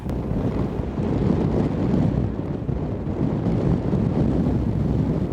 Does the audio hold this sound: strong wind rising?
yes